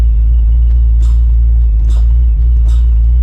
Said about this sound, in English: That is how a brake booster is supposed to sound in a Fox body.